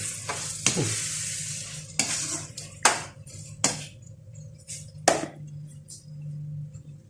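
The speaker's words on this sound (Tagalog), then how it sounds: "Haluin muna natin." A spoon stirs beef caldereta in a pot over a low sizzle, giving a handful of sharp scraping strokes at irregular intervals, close and fairly loud, with no voices.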